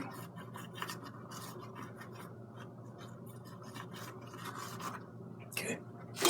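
A paintbrush scratches and rasps across canvas while black paint is worked in for a sea sunset, giving soft, quiet, irregular strokes that come one after another, with a sharper scrape near the end.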